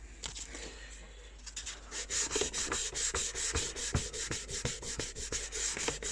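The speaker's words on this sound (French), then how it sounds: "je continue à le poncer parce que ça sert à rien que vous me regardiez pendant 10 minutes" Fine 600-grit sandpaper rubs a car mirror housing smooth in rapid, rhythmic back-and-forth strokes, close and moderately loud, with no talk over it.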